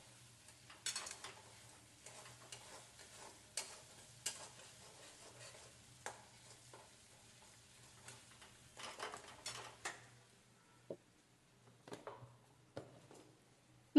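Potato curry with onion-garlic spice masala being stirred in a pan, a spoon scraping and clattering in irregular bursts over a faint, steady sizzle, close and fairly quiet with no talking.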